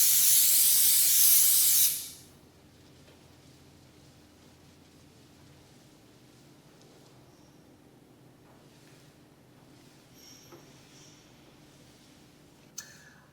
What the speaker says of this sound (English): our second stage of cleaning, which is our isopropyl alcohol